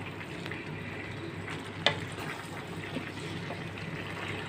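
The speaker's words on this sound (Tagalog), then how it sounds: "tapos igisa sa onion at saka garlic" Onion and garlic sauté in a pan for a shrimp and vegetable pasta, a soft continuous sizzle with one sharp clink partway through, fairly faint and without talk.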